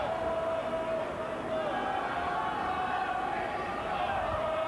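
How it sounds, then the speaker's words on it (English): A crowd at a 1997 Paris Saint-Germain versus Castleford rugby league match in a stadium, its distant, sustained chanting drone rising and falling steadily beneath a commentator's voice. "the crowd starting to sing again"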